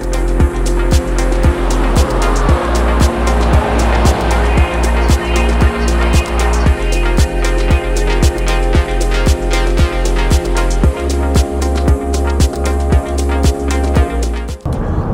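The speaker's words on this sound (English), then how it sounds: "All right, on the road with the Navigator." A 2021 Lincoln Navigator SUV drives along a road, its engine a steady low drone under regular rhythmic thumps from the road surface, loud and close throughout with no speech.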